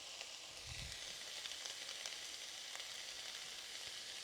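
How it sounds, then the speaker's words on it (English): Onions frying in a home kitchen pan give a steady, soft sizzle and crackle with faint pops throughout, quiet and continuous, with no talking. "I love the smell of cooking onions in the evening"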